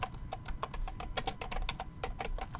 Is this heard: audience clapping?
no